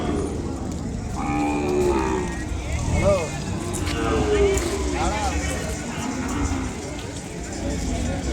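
Ongole cattle at a busy Sunday cattle market in Kodada, Suryapet district, Telangana, mooing several times in long low calls over a steady crowd din, with people talking nearby.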